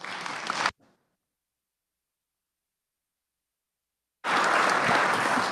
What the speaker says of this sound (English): I'd like to give you a great applause from the Kansas Senate floor